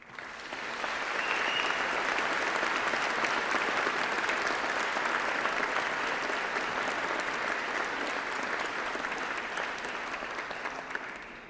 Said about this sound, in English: shall we have a round of applause for all those special people who've helped you get here today?